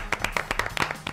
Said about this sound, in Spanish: vaya nuestro aplauso fuerte para todas esas personas